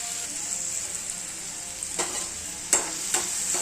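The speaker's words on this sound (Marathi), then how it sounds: "आता आहे ना कांदा बघा ब्राऊन कलर होईपर्यंत भाजत आलेला आहे" Chopped onion frying in a pan until browned, a steady soft sizzle with a few brief stirring scrapes near the end, close and fairly quiet with no talk.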